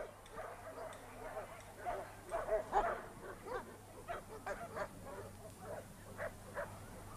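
Dogs of various breeds barking at a dog show, a scattered run of short barks and yips of moderate loudness over steady hall noise and a low hum.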